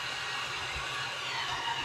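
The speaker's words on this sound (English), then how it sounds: "I'm using a heat gun and not a hair dryer" A heat gun blows steadily during a custom paint job on a craw fishing lure, giving a continuous airy hiss with no talking.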